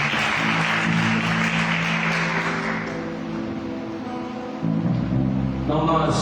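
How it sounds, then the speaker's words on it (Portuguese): A church congregation applauds during a worship service, a dense sustained wash of clapping that gradually thins out, with low musical tones and voices coming in toward the end. "Aplauda ao Senhor."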